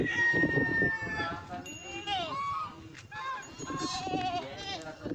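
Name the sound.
goats bleating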